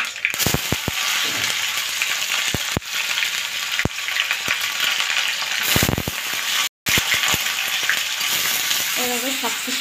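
Onions hit hot oil in a wok with a loud, steady sizzle that fills the whole stretch, broken by sharp spatula clacks and stirring scrapes, with a brief drop-out partway through.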